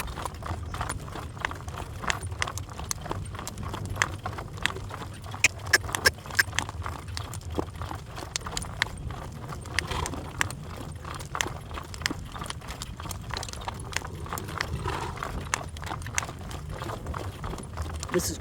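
Rhythmic clip-clop of a 3-year-old Morgan gelding's hooves while driving, steady trotting beat close by with occasional light rattles, continuing throughout.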